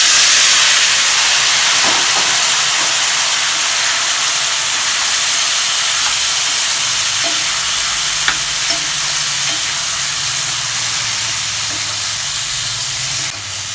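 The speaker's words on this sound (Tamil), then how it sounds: "அதை இந்த எண்ணெயிலே கொட்டிக்குவோம்." Salted gooseberries (amla) poured into hot oil for a pickle, giving a loud steady sizzle and hiss that slowly settles, with faint stirring clinks and scrapes and no talk.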